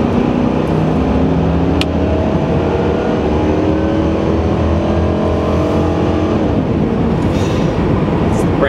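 A 1996 Chevrolet Impala SS drives along, its engine a steady, loud, smooth drone with rising harmonics as it accelerates, heard from inside the car with no talk.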